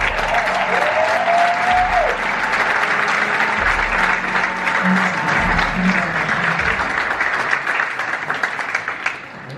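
Loud, sustained applause from a conference audience in Paris welcoming a panelist, dense clapping filling the room, with a brief whistle-like tone early and a slight fade near the end.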